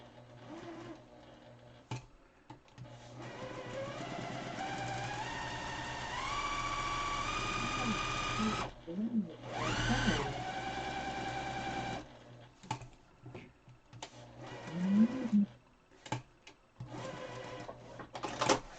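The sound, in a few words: sewing machine stitching around a wire on a mask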